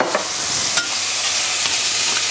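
Onions and caraway seeds sautéing in a pan, with a steady broadband sizzle throughout, a few brief stirring clicks, close and fairly loud, no voices.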